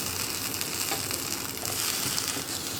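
Spices and chopped tomato fry in a pan for cauliflower masala while being stirred, a constant bright sizzle with soft spoon scrapes, close and fairly loud, without speech.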